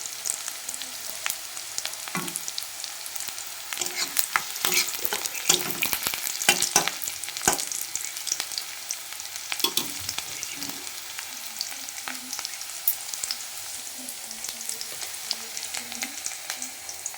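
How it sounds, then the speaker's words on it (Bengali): Fenugreek greens frying with onion in hot oil in a pan on a gas stove, with a continuous close sizzle and crackle broken by frequent stirring scrapes of the spatula. "মেথি শাকটা ভাজা করবো"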